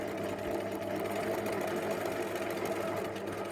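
A sewing machine runs continuously while stitching corset seams at a 1.5 cm allowance, a steady close-up mechanical whir with a rapid rhythmic needle chatter.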